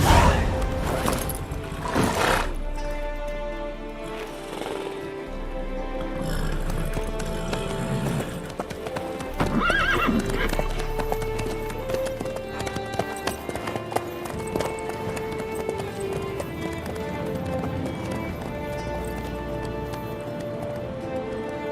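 Horse hooves clip-clopping at a run in The Witcher 3, rhythmic footfalls under a bed of game music and occasional clatter.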